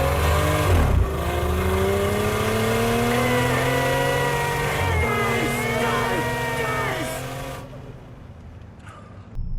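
Toyota GR Yaris three-cylinder engine revving loudly and steadily, pitch rising and falling through several sweeps, then cutting off to near quiet at the end.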